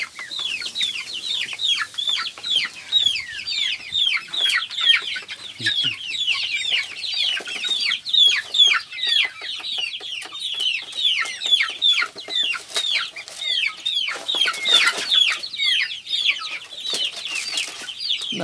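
Young chicks in a cage cheep and cluck continuously, many birds close by chattering in overlapping rapid calls with no pause.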